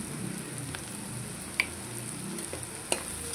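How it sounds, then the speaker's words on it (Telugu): Ginger paste is stirred into sizzling capsicum and onion frying in a pan for egg curry: a steady, close crackle of oil with a few sharp clinks of a spoon against the pan. "ఇలా కూడా కలపెట్టేసుకుందాం."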